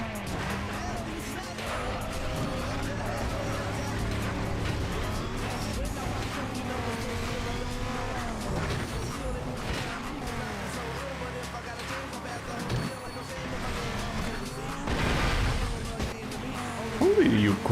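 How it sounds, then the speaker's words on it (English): A car crashes in the racing video game Need for Speed: Nitro. A steady engine roar and tire squeal run throughout, with a louder burst of impact and skidding near the end. "You crash there with this car at that speed."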